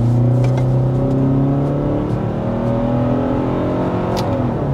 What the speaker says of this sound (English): And speeding up here to 55 miles per hour.